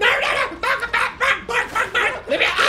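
A dog barks in the side-scrolling video game INSIDE, sharp repeated barks in a steady rhythm, loud and close, with no talking.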